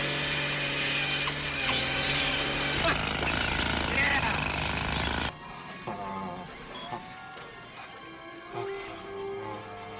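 A powered drill or electric screwdriver whines loudly and steadily through a RoboCop movie scene for about five seconds. It then cuts off abruptly, leaving quieter scattered mechanical clatter and tones.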